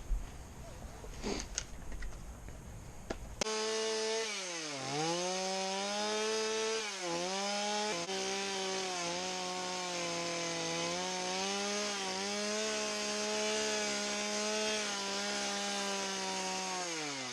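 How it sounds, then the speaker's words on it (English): A chainsaw bar scrapes and sands across wood while a skull is carved, the engine droning steadily at high pitch and dipping and rising with the strokes, after a few seconds of quieter handling noise. "the bar, I'm not cutting in, kind of just scraping the wood, and it's almost like it's sanding it"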